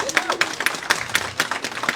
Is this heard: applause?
yes